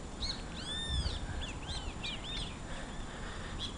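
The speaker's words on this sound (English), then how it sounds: "These birds that you hear are called kiskadee." Kiskadee birds calling near a hotel, a few quick rising-and-falling whistled calls repeating in short bursts over faint background noise, fairly distant and soft.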